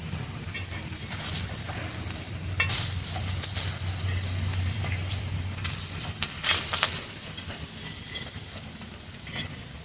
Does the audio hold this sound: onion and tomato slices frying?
yes